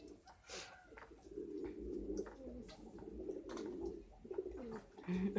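Low, soft pigeon cooing repeats in a murmuring rhythm, fairly faint, with faint background noise around it.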